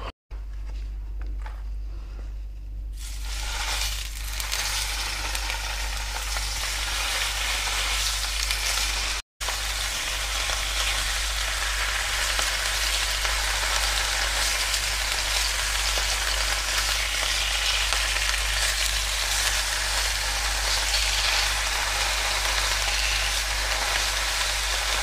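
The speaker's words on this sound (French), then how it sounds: "la cuisson de saumon, il faut pas trop cuire" Salmon sears fast in a hot pan for a Korean-style caramelized salmon dish, giving a loud, steady sizzle that builds within the first few seconds and then holds close and constant.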